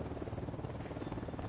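An enemy helicopter in the video game Ghost Recon Wildlands, a steady low rotor drone that holds loud and continuous throughout, with no talk over it.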